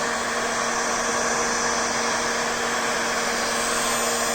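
A heat gun runs steadily, heating Proseal sealant and epoxy on a BD-4B aircraft spar, giving a loud, constant blowing whir with no change over several seconds.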